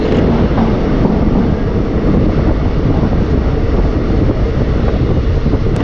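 The 16324 Express runs along the Kerala coastal route between Mangalore and Mahe near Kasaragod, a loud continuous rumble of wheels and carriage noise with wind roaring past the microphone, steady throughout with no talking.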